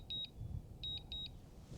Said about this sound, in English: Okay, I'm hearing beeping.